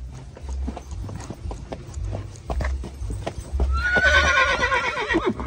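A dancing horse at an equestrian dancing-horse contest: rapid rhythmic hoof clip-clops on a hard surface, then a loud, drawn-out neigh rising over the steps near the end.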